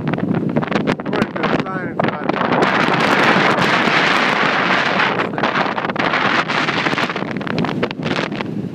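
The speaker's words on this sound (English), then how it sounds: "it's a little windy." Strong wind at the top of Ubehebe Crater, about 500 feet up, buffets the microphone in loud, ragged gusts, roaring and flapping throughout with a voice speaking under it.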